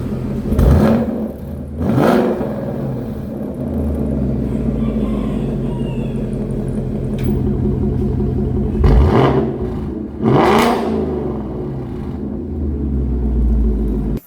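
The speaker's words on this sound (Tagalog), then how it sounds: "this specific Mustang has been equipped with Borla exhaust" A 2018 Ford Mustang GT V8 fitted with a Borla exhaust, idling with a deep throbbing rumble and blipped several times, each rev a loud sharp roar that quickly falls back to idle.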